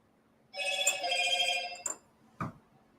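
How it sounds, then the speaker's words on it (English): A cell phone rings once in a quiet room, a bright electronic tone lasting about a second, followed by a faint click and a short knock. "Cell phone."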